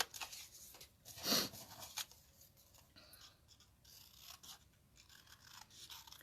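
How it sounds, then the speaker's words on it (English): Scissors fussy cutting around a paper card image, a quick run of soft snips and rasping paper rubs, close and fairly quiet, with one brief louder cut near the start. "So now I gotta fussy cut her very quickly"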